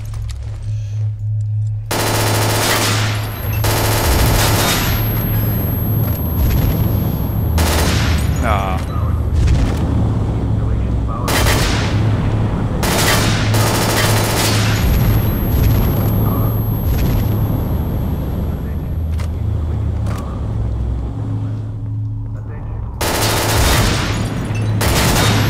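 Automatic gunfire from a weapon in the video game S.T.A.L.K.E.R. Shadow of Chernobyl, set in a secret lab, rattles in repeated loud bursts over about twenty-five seconds, separated by brief pauses, with a steady low game drone underneath.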